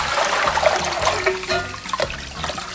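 Boiled water, ten litres of it, is poured in a steady splashing trickle for making dongchimi, a Korean radish water kimchi, close and without talk.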